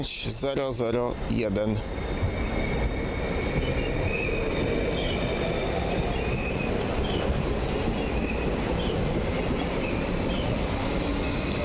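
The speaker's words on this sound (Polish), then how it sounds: "skład Flirta ER 160 do Otwocka." A Flirt ER 160 commuter train runs through Warszawa Ochota station with a steady rolling rumble, clicking wheels and faint high squeal, loud and close throughout, after a brief voice at the start.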